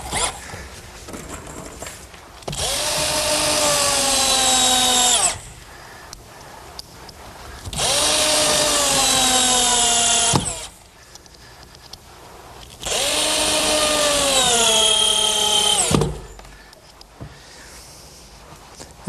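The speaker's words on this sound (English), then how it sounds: "what I'm trying to do here is get 3 screws in each board" A power driver sinks 2.5 inch galvanized bugle head screws into wooden boards in three separate runs, each a loud whirring drive of a few seconds with rising strain, separated by short quiet pauses.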